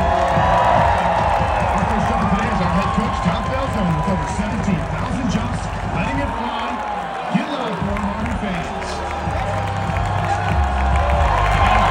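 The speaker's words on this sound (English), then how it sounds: "The jumpers can definitely hear some encouragement from the crowd." Stadium crowd at a West Point football game cheering and applauding as cadets parachute in from a helicopter, a sustained distant roar of voices under ongoing announcer-style talk.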